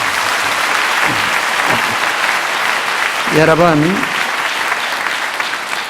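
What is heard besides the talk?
church congregation applauding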